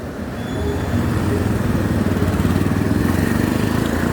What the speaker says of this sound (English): And there's a fast tuk-tuk.